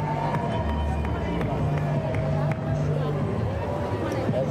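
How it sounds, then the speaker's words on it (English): A crowd of spectators at a cliff diving event in Boston Harbor roars and cheers in a steady, loud wash of voices, with a commentator speaking over it. "Listen to the roar of the crowd."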